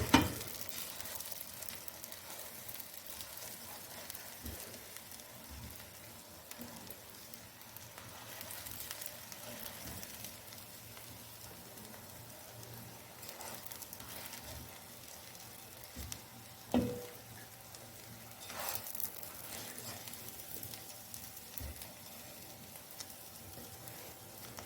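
Chana koftas shallow frying in oil, a quiet steady sizzle with faint crackles and occasional soft clinks of a utensil, no speech.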